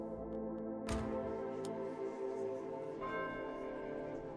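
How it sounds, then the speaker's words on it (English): A beckoning bell rings in the video game The Horror at Highrook: one sharp struck tone, then a sustained, shimmering ring with a second lighter strike, all over a steady droning game ambience. "Let's do the beckoning bell again."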